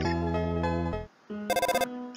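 An incoming call from Toriel rings on a phone in the video game Undertale, a short tonal jingle that pauses briefly before a quick run of bright repeated chirps, loud and close with no speech.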